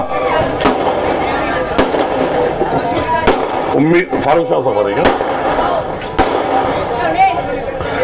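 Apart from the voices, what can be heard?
firecrackers bursting at an outdoor rally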